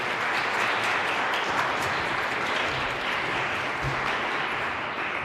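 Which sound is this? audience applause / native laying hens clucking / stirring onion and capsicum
audience applause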